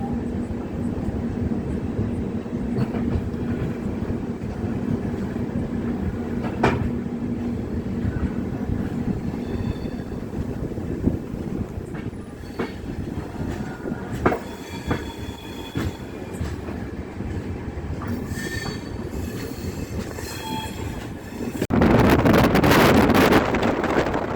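The Mettupalayam to Tirunelveli Express rolls along under heavy wind, a loud continuous rumble of wheels and carriages with clacks and squeals, swelling into a sharp roar near the end.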